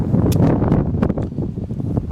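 Gusty wind buffets the microphone on an open golf course, a loud, rough low rumble with brief bursts of higher hiss, continuous and with no voices.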